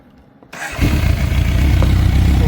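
A 2004 MV Agusta 750S motorcycle catches on the first try after a short quiet pause, its engine firing up loud and close into a rough, steady idle.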